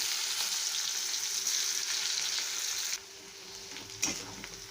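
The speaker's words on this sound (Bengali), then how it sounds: "পেঁয়াজগুলোকে একটু লাল লাল করে ভেজে নিতে হবে" Chopped onions fry in a pan with garam masala powder, a steady bright sizzle running close and continuous, easing slightly near the end with one short stir or clink; no voices.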